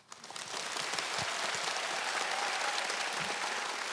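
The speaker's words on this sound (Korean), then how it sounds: "서울대학교 유성호 교수님을 큰 박수로 모시겠습니다." A large audience at a library book concert applauds to welcome a forensic medicine professor, the clapping swelling quickly from quiet into a dense, even roar of many hands that holds steady, sounding like heavy rain.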